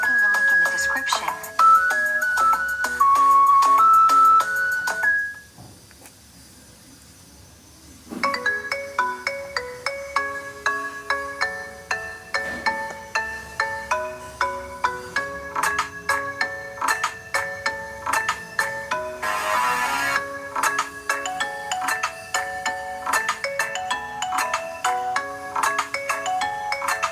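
A melody played as a ringtone: bright plucked synth notes in a bouncy repeating pattern, a short quiet gap, then the tune resumes with a steady beat, loud and clean.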